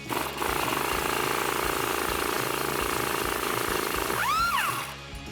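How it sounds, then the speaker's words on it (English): A power tool with a 16mm deep socket and extension drives off an end link nut on a 2002-2018 RAM 1500 2WD front suspension, a loud continuous rattling whir that ends with a rising-then-falling whine as it spins down. "come in with a 16mm deep socket and maybe an extension and pop that nut off"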